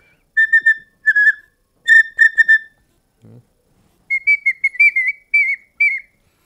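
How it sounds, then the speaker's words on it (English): Carved Jemez Pueblo bone whistle for calling birds, blown in short, clear, high-pitched chirps grouped in quick bursts, with a pause midway and then a longer run of rapid chirping toward the end. "you can make whistles like this to call in birds"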